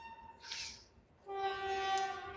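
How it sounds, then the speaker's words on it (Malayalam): A train arrives at Kollam Junction railway station, sounding a short horn blast, then after a brief lull a longer, louder sustained horn close by. "ട്രെയിൻ വളരെ അടുത്തെത്തി"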